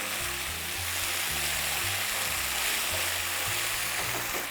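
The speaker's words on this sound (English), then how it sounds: "I'm going to saute everything together" Vegetables sautéing in a pan with chili garlic sauce, a soft continuous sizzle and crackle at low level, no voices.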